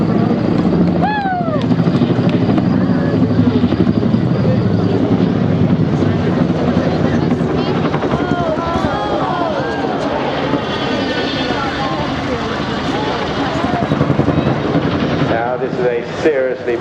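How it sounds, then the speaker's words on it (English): A Boeing Chinook twin-rotor helicopter roars loudly and steadily overhead in an airshow display, its heavy engine and rotor drone continuous throughout, with shifting whine and faint crowd noise beneath. "Seriously big helicopter to throw around the skies"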